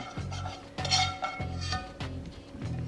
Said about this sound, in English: All right, so in goes the sweet potato.